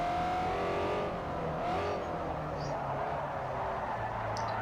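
A car drifting in Forza Motorsport 4 on the Fujimi Kaido course, its engine droning and revving continuously at moderate level, with a faint tire squeal near the end.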